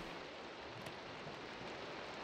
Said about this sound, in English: Yeah, there we go. It's raining.